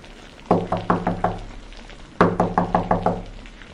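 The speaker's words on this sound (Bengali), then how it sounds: "তারপর দরজার গায়ে শব্দ উঠল" Knuckles rap on a shut door in a ghost story: a first run of five firm knocks, a short silence, then a second run of six, close and crisp against a quiet background.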